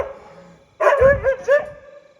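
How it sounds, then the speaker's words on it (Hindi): A dog barks at a donkey: three quick, loud, close barks in succession after a brief quiet pause, with no talk over them. "अब देखो कैसे भौंक रहा है।"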